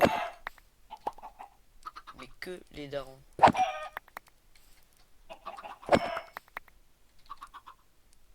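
Minecraft chickens give short clucks and squawks scattered across several seconds, mixed in with a French-speaking player talking over them and game sound effects.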